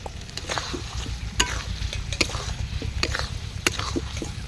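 Potatoes tossed into hot spice masala sizzle steadily in the pan, with a continuous frying hiss and irregular scraping clicks of stirring up close.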